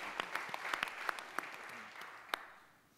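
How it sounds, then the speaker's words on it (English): Conference audience applauding the event's sponsors after opening remarks, a steady wash of many hands clapping, with a few louder claps standing out as it fades toward the end. "So if you can give a round of applause for our sponsors."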